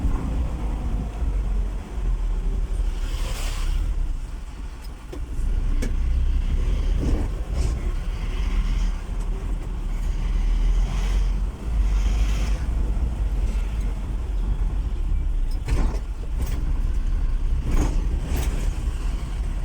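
An Isuzu 4JH1-engined vehicle drives after a clutch, release bearing, pressure plate and resurfaced flywheel replacement, giving a steady low engine and road rumble with wind buffeting and occasional rattles throughout.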